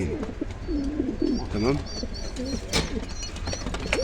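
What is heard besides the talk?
pigeons cooing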